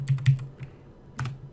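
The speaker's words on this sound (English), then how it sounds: "If I'm typing now a bunch of equal signs" Quick taps on a computer keyboard, a short irregular cluster of close clicks, then a brief pause and a couple more keystrokes.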